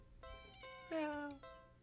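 A cat meows in the video game DoNOTTakeThisCatHome, a drawn-out, wavering meow in the middle with shorter, softer meow-like cries before and after it, close and clear over a low background hum.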